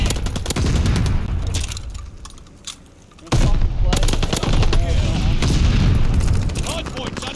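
Rapid gunfire and explosive bursts in a Call of Duty: Vanguard ranked Hardpoint match, dense and continuous with a short lull near the middle, loud and close under the game's mix.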